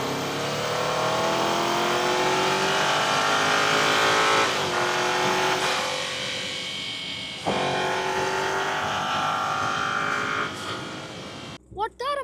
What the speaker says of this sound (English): This exhaust note has just put me to sleep.